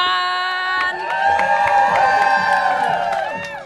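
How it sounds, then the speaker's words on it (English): A studio audience on a dating show erupts in loud cheering, whoops and excited shouting for a contestant, sustained and close with little distinct clapping. "Give a warm round of applause to contestant number one"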